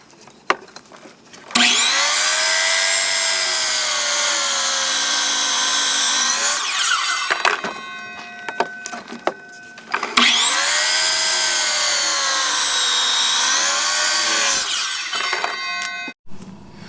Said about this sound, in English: What's happening is we're cutting wetter than normal wood.